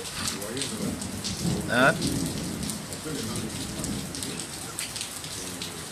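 Steady heavy rain in Gabon hisses and patters on surfaces, with a brief murmured voice partway through.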